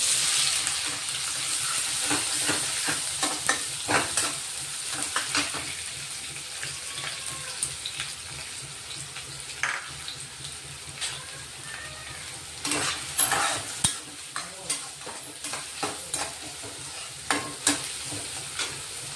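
Finely chopped onions frying in a pan while a spoon stirs them, a steady close sizzle broken by frequent scraping strokes and clinks, with no talking.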